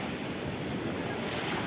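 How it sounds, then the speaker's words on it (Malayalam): Sea waves surge into a backwater by the beach, a steady, loud, continuous wash of surf with wind rumble and no voices. "കടലിൻ്റെ തിരമാല കായലിലേക്ക് അടിച്ചു കയറുന്നു കേട്ടോ."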